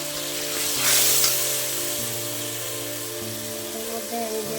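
Mustard paste ground from white and black mustard seeds sizzles in a wok, a steady close frying hiss with a brief louder burst near the start, continuing evenly throughout.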